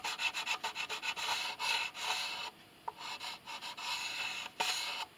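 A tool scrapes ebony from the fingerboard of a 1/10 size violin. Close, rhythmic rasping strokes repeat steadily with a few brief pauses, and no one speaks.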